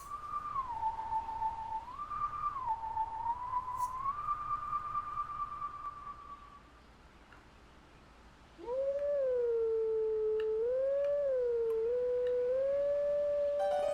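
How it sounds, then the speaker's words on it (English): Howling stone wolf-howl melody from Zelda: Twilight Princess HD, a long wavering howled tune in two phrases with a short pause between, clear and alone over a soft game ambience. "there's a howling stone that we can activate"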